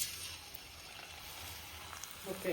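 Chips fry in hot homemade coconut oil, a steady, close hiss of bubbling oil that holds evenly, with a faint clink near the end.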